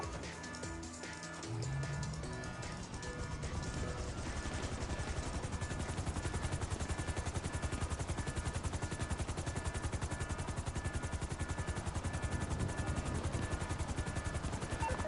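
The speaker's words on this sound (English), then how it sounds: "Uh-oh, hold on. Let me take out this helicopter." Helicopter rotor thudding steadily in GTA V Online freemode, with dense bursts of machine gun fire layered over it, loud and continuous throughout.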